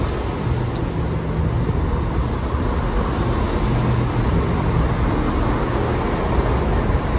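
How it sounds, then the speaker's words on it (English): A London Marylebone diesel train pulls into Amersham station, producing a continuous loud engine rumble and rolling noise that holds steady throughout, with no voices. "This is the London Marylebone service coming in."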